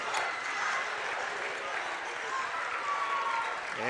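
Crowd at a District 2 championship basketball game between George Little Rock and Boyden-Hull cheering and applauding steadily, a dense continuous roar of claps and voices with a commentator talking over it.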